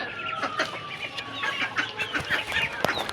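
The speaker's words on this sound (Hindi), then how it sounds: "वो देखे हमारी मुर्गी, इतनी देर से यहाँ पे रह रही थी।" A desi hen clucks in short, repeated bursts close by, its choppy calls scattered over a quiet outdoor background with no talk.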